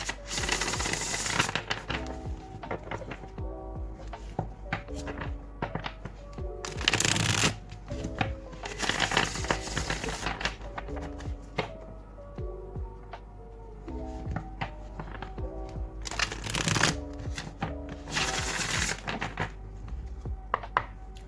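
A deck of tarot cards being shuffled and cut by hand, with repeated bursts of riffling and snapping cards between softer handling taps, close and clear over quiet background music, no talking.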